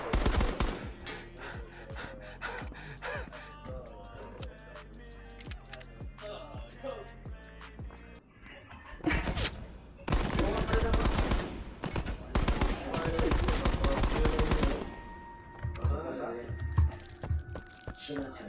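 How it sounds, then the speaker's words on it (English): Video game gunfire: rapid bursts of automatic shots and single cracks, loud and dense through the middle, with speech and game sounds around them. "It's you shooting, man."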